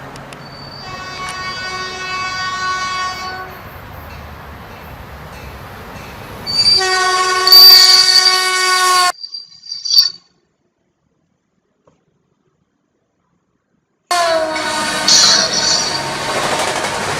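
A passing train sounds its horn in long, sustained chord blasts over the rumble of rolling cars. A second, louder blast cuts off abruptly, followed by a few seconds of silence before the horn and train noise return.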